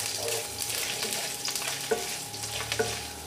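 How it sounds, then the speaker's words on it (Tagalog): Ginger stirred as it fries in a pot, a steady close sizzle with scraping stirs and a couple of sharper utensil knocks against the metal, no voices. "Halo-halo hanggang sa maamoy natin yung bango ng luya."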